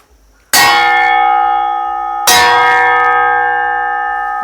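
A hardened steel chaff cutter blade is struck twice, each strike ringing out with a bright, sustained metallic tone that slowly decays, like a temple bell.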